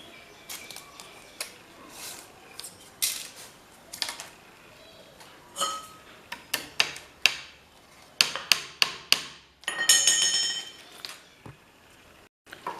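A hammer taps tacks to stretch screen printing fabric tight on a frame, with sharp, irregular knocks and clinks, some in quick bursts and some spaced apart, at close range with no talking.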